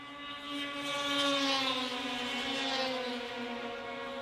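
Racing snowmobiles on a track drone into a turn, a loud engine whine with a rising then slowly falling pitch as the sleds pass, continuous for a few seconds with no voices.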